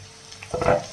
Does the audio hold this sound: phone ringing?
no